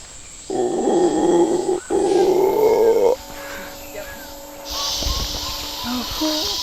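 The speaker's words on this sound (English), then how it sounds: "And we just heard some howler monkeys." Howler monkeys in a Costa Rican rainforest, two long loud growling roars in close succession, followed by quieter jungle ambience.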